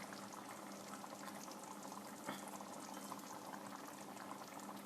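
Lentil soup with chicken bubbles steadily in a pot on a gas stove, a soft, continuous simmering burble heard faintly and evenly throughout.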